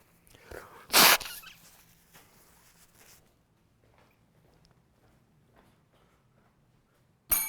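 A person blows their nose in one sharp, loud honk near the start, followed by quiet rustling and faint small movements in an otherwise hushed room.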